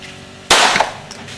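A single sharp, loud gunshot-like crack bursts out and then decays with a brief rattling tail, heard alone with no talk, recorded while travelling in Cambodia, Vietnam, Laos or Yangon in 2005.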